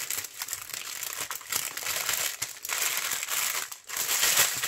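Plastic packaging of Diamond Dotz diamond painting kits crinkles and crackles continuously during an unboxing, in close, irregular bursts with no talking.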